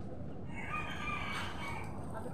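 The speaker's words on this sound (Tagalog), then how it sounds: "Marami naman yung alagang manok." A rooster crows once across a yard of backyard chickens, a drawn-out call rising over steady rural background noise.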